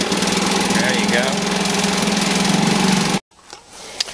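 A small engine idling steadily and loudly up close for about three seconds, then cutting out abruptly, leaving a quiet, faint background with a small knock at the end.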